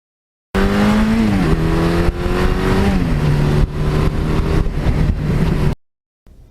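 A 1982 Suzuki GS1100E motorcycle accelerating hard through the gears, its loud engine note rising and then dropping at each shift, heard close and continuous for about five seconds before cutting off abruptly.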